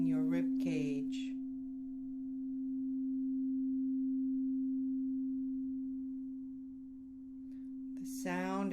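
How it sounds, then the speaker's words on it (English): A steady, pure sustained hum holds one pitch for several seconds as a calm sound-meditation tone, swelling and fading gently, with a soft voice speaking briefly at the start and end. "humming sound surround your body"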